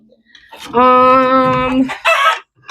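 A rooster crows loudly nearby on a farm in one long, sustained call, followed by a short burst of chicken clucking.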